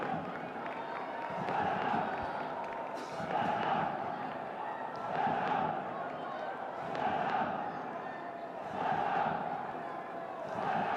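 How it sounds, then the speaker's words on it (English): Stadium crowd at an AFC Champions League Two football match between Al-Nassr and FC Goa, a broad continuous roar that swells and eases in regular waves, with a commentator talking over it. "Crowd seem to be enjoying it here."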